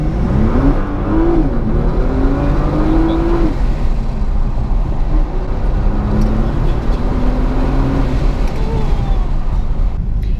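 A Nissan GT-R sports car arrives with a loud, steady engine drone and rising revs that swell and dip over a constant low rumble, with speech faintly in the background.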